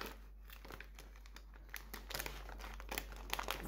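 A padded envelope being opened and unwrapped by hand, with soft crinkling and rustling that grows busier toward the end, faint and close over a steady low electrical hum.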